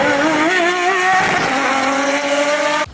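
A Pagani supercar screams past at Laguna Seca raceway, its engine note loud and rising through the revs, then shifting and settling before cutting off abruptly.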